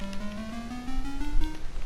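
A buzzy, retro game-like synthetic tone from a Minecraft note block on an emerald block holds steady while gliding gradually upward in pitch, clear and fairly loud with nothing else around it.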